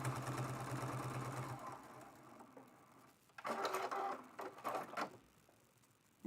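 Sewing machine stitching a quilted mug rug off the raw edge, a steady mechanical whir that fades out, then returns in short bursts.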